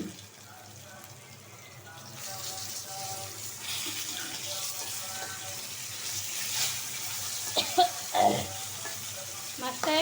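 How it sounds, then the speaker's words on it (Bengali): Katla fish pieces fry in a pan, making a continuous sizzle that swells after the first couple of seconds, with clattering stirs and clinks near the end. "মাছটা ভাজা হোক"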